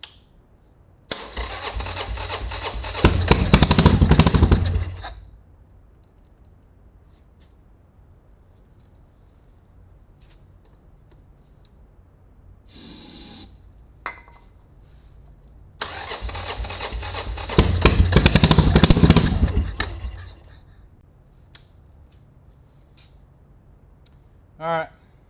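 A non-running motorcycle that gets 80 MPG, with a ruined carburetor, being cranked in two long bursts of several seconds each that rise in loudness. Quiet gaps and a short burst fall between them, and a voice is briefly heard.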